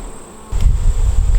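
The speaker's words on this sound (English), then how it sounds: "let some of the bees leave the frame and go back into the hive" Honey bees buzzing around an opened hive frame: a loud, steady, close insect drone that swells after a short quieter start and continues without talk.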